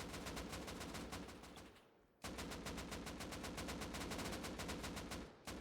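Rapid bursts of AK rifle fire in the survival game Rust, two sustained automatic volleys split by a brief pause, loud and close with sharp evenly spaced shots and no talk.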